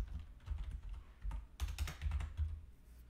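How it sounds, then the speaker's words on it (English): Computer keyboard typing up close, quiet irregular clusters of key presses with short pauses between bursts, no voices. "So I'm going to type it in."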